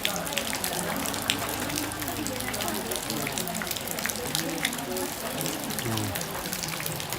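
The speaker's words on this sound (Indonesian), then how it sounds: "Masih hujan nih" Rain falls steadily outdoors at a funeral, a dense wash of patter and gush with scattered sharper drops striking nearby surfaces, continuous throughout with faint voices underneath.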